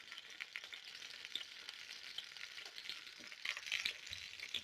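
Finely chopped onions sautéing in cooking oil in a pan, a quiet, fairly close crackling sizzle with light stirring scrapes and a slightly busier burst near the end, no talking.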